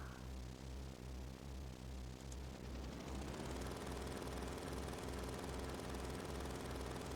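A helicopter engine in Final Fantasy VII drones steadily with a looping low rhythmic thrum, then swells into a fuller, buzzier whir partway through, loud and continuous with no talking.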